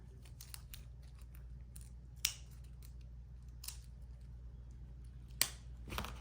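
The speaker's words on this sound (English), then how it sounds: "this I need to cut open in order to access the card" Scissors snip through plastic packaging holding a camera memory card, a few sharp isolated cuts spaced apart over a steady low hum, no talking.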